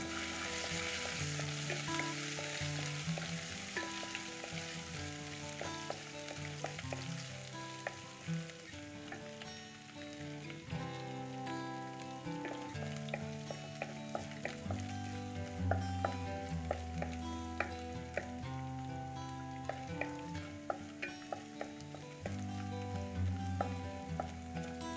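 Garlic sizzles steadily in a hot pan for an Egg Roast, with repeated soft scraping and clinking as it is stirred and sautéed, close up and continuous without talk.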